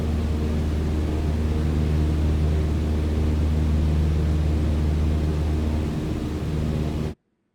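A Cessna 152 engine drones steadily and loudly in Flight Simulator, a constant, close propeller hum at full power with no break until it cuts off abruptly near the end.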